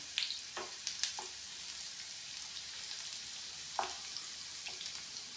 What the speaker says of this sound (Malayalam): എണ്ണ നന്നായി ചൂടായി വന്നിട്ടുണ്ട് നമുക്കിതൊന്ന് വറുത്തെടുക്കാം